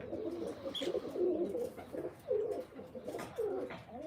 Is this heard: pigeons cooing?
yes